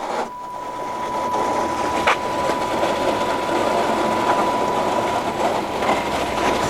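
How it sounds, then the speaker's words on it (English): A motor draws an old BOSS pintle chain off a machine, producing a continuous close mechanical clatter and rattle over a steady tonal hum, with a few small knocks on top. "And I'm simply drawing the old chain off, letting the motor do the work."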